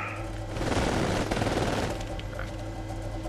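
Shotgun and auto pistol fire in a video game: a fast rattling burst of shots that swells in the first half and then thins out, close and loud over a steady low hum.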